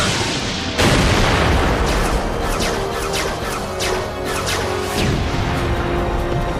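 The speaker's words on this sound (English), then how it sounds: "Decepticons, open fire!" Cartoon Decepticon robots opening fire, a loud, continuous barrage of blaster shots and booming explosions, with repeated bursts throughout and a big blast near the start.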